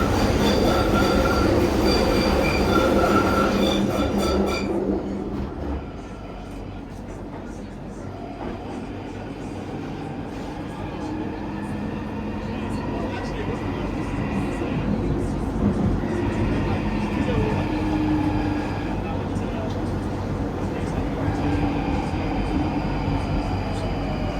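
London Underground Tube train running through a tunnel between London Bridge and Paddington, a loud continuous rumble and wheel roar with squealing rail tones; an onboard announcement plays over it partway through.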